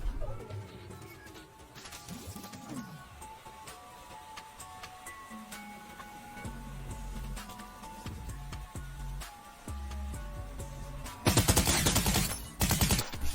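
Game gunfire in Fortnite crackles in short bursts and rapid volleys over background game sounds and a steady tone, growing into a loud dense burst near the end, with a voice talking over it.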